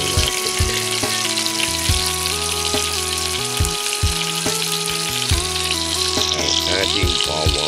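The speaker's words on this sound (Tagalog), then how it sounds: "Ang ating bawang. Maging brown at maging mabango" Garlic sizzles steadily in a hot frying pan for a Filipino sautéed vegetable dish, a loud continuous frying hiss with occasional stirring scrapes.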